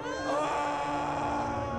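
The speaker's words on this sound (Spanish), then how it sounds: "Pero Jesús lanzó un fuerte grito" A loud, sustained dramatized scream from a man in a Spanish Gospel reading of the crucifixion: one steady, harmonic cry held for nearly two seconds at close range.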